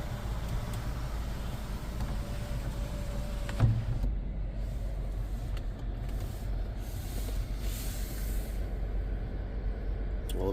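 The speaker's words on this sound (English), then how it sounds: "So our sunroof is up. We will put it down and we will slide it open. And we'll slide it closed." Sunroof on a one-owner 200 Series Lexus LX570 tilting down, sliding open and sliding closed, a faint electric motor whir over a low steady cabin hum with a soft clunk partway through.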